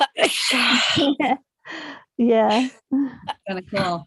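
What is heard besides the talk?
sneeze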